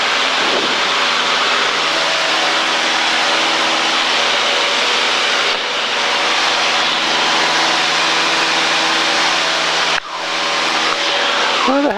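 A low-powered Cessna 152 in aerobatic flight, heard as a loud continuous engine drone mixed with rushing wind, steady for most of the clip with a short break and a change in tone near the end.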